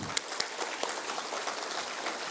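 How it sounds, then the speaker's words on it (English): An audience of new first-year engineering students at an inauguration event applauds, with a dense, steady clatter of hand claps and a few sharp individual claps standing out, fairly faint and continuing throughout. "So huge round of applause for yourself firstly."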